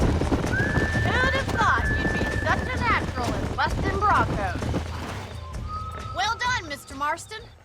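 Horses whinny and snort up close over a steady clatter of hooves, with a few loud neighs standing out, in the video game Red Dead Redemption.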